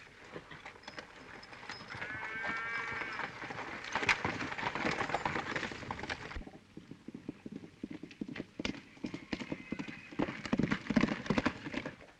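Horses clip-clopping on a trail in the Arizona desert, a steady run of dense hoofbeats that grows busier and more scattered toward the end, with livestock bleats mixed in and no clear talk.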